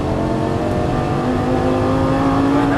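A Lamborghini Gallardo LP550-2 engine pulls hard under full throttle, a loud, close, continuous roar whose pitch climbs steadily as the car accelerates.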